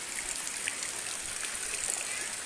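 Floodwater in Martapura, South Kalimantan, a continuous broad rushing wash mixed with falling rain, steady and unbroken at moderate loudness, with no voices over it.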